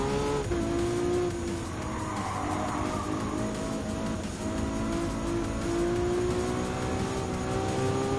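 Race cars in Gran Turismo 7, among them a yellow Ferrari F430 and a yellow Testarossa, roar continuously with loud sustained engine drone and screeching tire skids, close and unbroken throughout.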